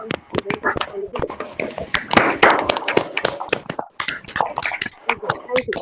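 An audience of teachers, students and participants at a National Youth Day celebration gives a big round of applause, dense close clapping that swells and fades over several seconds.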